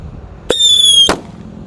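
A Happy Power 3 firework set in a PVC pipe goes off with a sharp onset and a loud, high whistling shriek lasting about half a second before cutting off abruptly, close by, with no talk.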